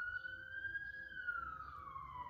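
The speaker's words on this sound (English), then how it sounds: "as the police siren is going on, the ambulances" Police siren wailing outside with a passing emergency vehicle, a single rising-then-falling tone, moderately distant, over low traffic rumble.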